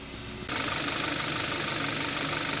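A Kia car engine catches and runs at a steady, loud idle after a crankshaft position sensor replacement, a dense continuous rumble starting half a second in.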